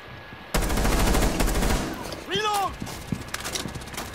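A rapid burst of automatic gunfire in a shooter video game rattles out loud and close for about a second and a half, followed by a brief voice and a few scattered shots.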